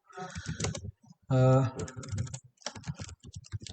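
Fingers type a git command on a computer keyboard in quick clustered bursts of close, crisp key taps, separated by short pauses, while someone talks over parts of it.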